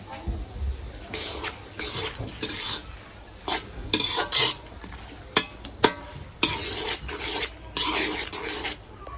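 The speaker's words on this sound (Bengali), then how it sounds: "এদিকে পেঁয়াজ অনেকটা ভাজা হয়ে গেছে" Onions frying in a pan under repeated scraping and stirring, a metal utensil rasping against the pan in uneven bursts over a soft sizzle.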